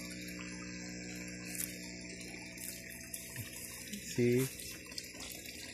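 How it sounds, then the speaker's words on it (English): Water from a koi pond running into a homemade DIY pond filter, a steady close splashing trickle with a brief louder gush near the end, while someone speaks briefly. "this water come from the pond, and it will pass through the filtration media."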